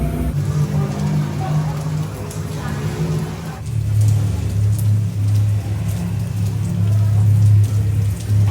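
Heavy rain falls steadily at a theme park, a dense constant hiss with low rumble from a sheltered spot, with people talking underneath.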